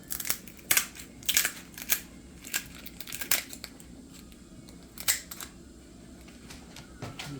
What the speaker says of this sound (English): just take your shears and just cut right up the middle